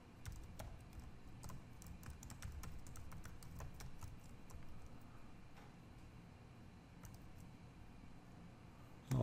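Steady computer keyboard typing while entering Java code for a JavaFX interface, with light irregular key taps over a low background hum, fairly close and quiet, no talking.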